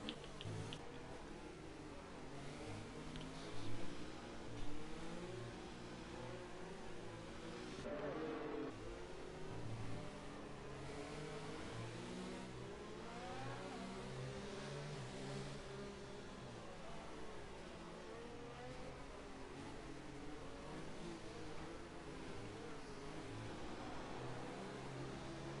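Pack of Formula 2 race cars running close together behind the safety car at Belgium, a steady layered engine drone with overlapping mid-pitched whines, fairly loud and continuous with no talk.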